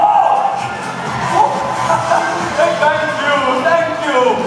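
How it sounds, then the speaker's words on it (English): Holiday-park entertainment crowd at Blackpool Haven cheering and whooping, a loud, lively mix of shouts and voices rising and falling over a few seconds, with children's calls mixed in. "I also want to hear some noise for the boss, the chief, the face that runs the place."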